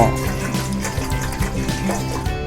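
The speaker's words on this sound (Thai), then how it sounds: "เทน้ำหนึ่งลิตรครึ่งนะครับ ใส่หม้อ" About one and a half litres of water pour steadily into a cooking pot for green jasmine tea, a continuous close splashing fill with no speech over it.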